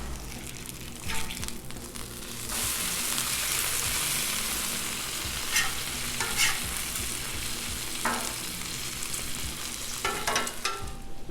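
French toast made with thick Texas toast fries on a Blackstone flat-top griddle alongside eggs, giving a steady broadband sizzle throughout with occasional brief scraping or clatter bursts from a spatula, close and moderately loud.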